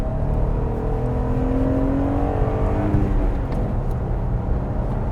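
A 2020 Jeep Gladiator Mojave with a 3.6 liter V6 and manual transmission accelerates, its engine note droning steadily and loud throughout with rising harmonic tones, no talking.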